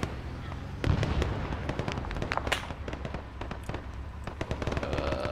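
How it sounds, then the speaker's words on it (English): An explosion goes off nearby in a Vietnam War video game, a sharp blast followed by a stream of crackling bangs, pops and debris that continue at high intensity throughout. "we just nearly got blown up"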